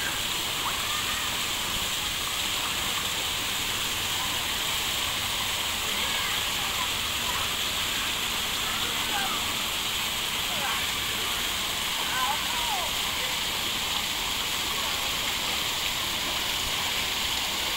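A waterfall at a beach hotel resort rushes as a steady broadband roar, fairly far off and even throughout, with faint chirps above it.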